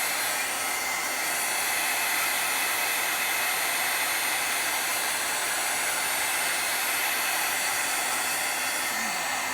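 A heat tool blows steadily over watercolored paper to dry it, a loud continuous whirring hiss that holds unchanged throughout with no voices.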